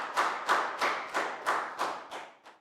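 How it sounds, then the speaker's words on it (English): A Year 3 maths class claps together after finishing a group game, giving about eight evenly spaced, sharp claps in a steady rhythm that grow softer toward the end, with no talking over them. "Big round of applause for everyone for playing a great game."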